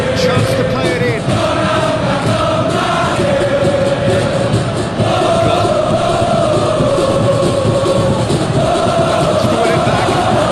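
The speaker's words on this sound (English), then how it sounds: "the crowd clearly like what they just saw" Football stadium crowd during an Indonesia versus Cameroon match, a dense, steady roar of cheering and chanting filling the whole span, with commentary voices running under it.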